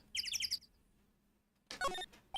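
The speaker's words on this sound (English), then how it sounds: "Some loud-ass birds, man." Loud birds chirp in the Phoenix Wright: Ace Attorney video game, in quick bright bursts: a rapid run of four or five tweets, a quiet gap, then another clustered burst of sharp calls.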